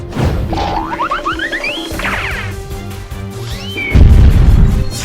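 Comedy effects blast from a cave exploding: cartoonish boings and pops build into a loud, booming burst near the end, heard alone without talk.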